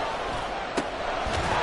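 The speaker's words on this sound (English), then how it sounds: "the crowd getting into it as we come up on a big 3rd down" A football stadium crowd roars steadily as a big third-down play approaches, a broad continuous wash of noise with a couple of sharp thuds rising out of it.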